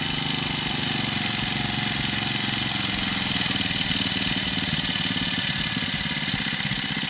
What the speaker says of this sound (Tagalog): Babaan lang natin yung idle kasi medyo mataas.